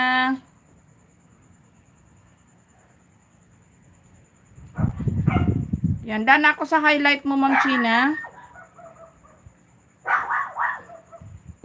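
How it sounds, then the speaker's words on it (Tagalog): Several dogs bark and yelp in a noisy burst during a rainy livestream, with someone talking before and after the barking. "Ingay ng mga aso."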